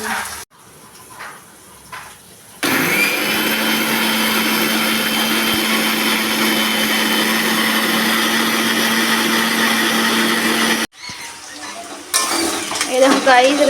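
An electric mixer grinder whirs loudly for about eight seconds, turning poppy seeds, dried red chili and cumin into paste, with clattering of the jar and kitchen handling before and after.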